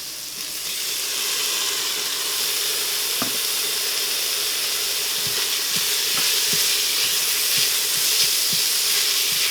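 Ginger and tomato fry in oil inside a Cosori pressure cooker, a steady bright sizzle and hiss filling the clip, broken by soft stirring taps and scrapes at irregular intervals.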